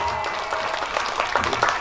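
Brief burst of audience applause at a pesantren students' stage performance, many hands clapping in a continuous rustling wash with some background voices.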